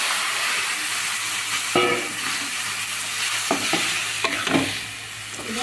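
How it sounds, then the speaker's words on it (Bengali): Leafy greens fry with garlic in a pan, a loud continuous sizzle with scraping stirs and a few clanks of the spatula partway through, with no talk. "রসুনটাকে বেশি ভাজতে হবে না, অল্প ভাজলে হবে। এবারে দিয়ে দেবো শাকটা।"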